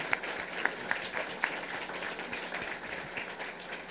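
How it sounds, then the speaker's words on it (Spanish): Applause from the audience at a presentation of an electoral information atlas, steady clapping from a fairly distant crowd with a few sharper claps near the start. "Y con un aplauso muy especial"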